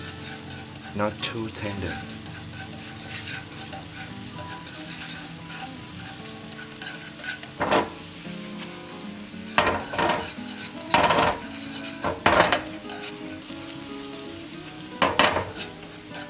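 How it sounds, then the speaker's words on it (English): Purple onion fries slowly over low heat, a continuous gentle sizzle with occasional louder bursts of stirring and clinking of utensils against the pan, plus a brief spoken phrase. "When you fry this purple onion, low fire will make the purple onion will very delicious, crumbly"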